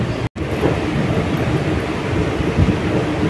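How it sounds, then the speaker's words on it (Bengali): A train pulling out of Belur Math station, heard as a continuous low rumble and rolling rail noise close by, steady throughout with a brief dropout near the start. "বেলুড় মঠ থেকে আবার ট্রেন ছেড়ে দিল 4:45"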